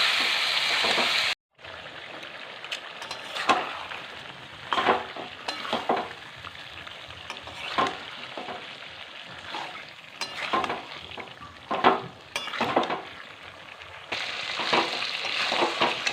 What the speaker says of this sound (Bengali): মাংসটা ভালো করে কষিয়ে নিয়েছি